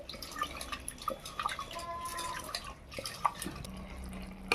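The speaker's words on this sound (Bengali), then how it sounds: "যে তেঁতুলটা আমি সিদ্ধ করে রেখেছিলাম, এইভাবে হাতে করে কষতে নিতে হবে" Boiled tamarind pulp squeezed by hand in a kitchen, with soft wet squelches and drips of liquid in short irregular bursts, close and fairly quiet.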